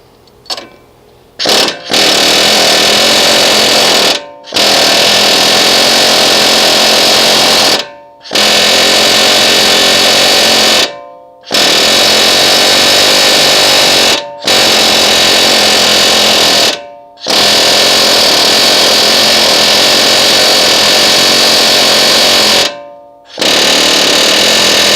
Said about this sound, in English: so we're going to take our air hammer and we're going to chisel the rivets off.